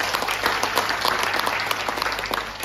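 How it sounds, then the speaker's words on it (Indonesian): An audience applauding at a property sales talk, dense continuous clapping from many hands, fairly close and steady for the whole stretch. "Berikan tepuk tangan dong."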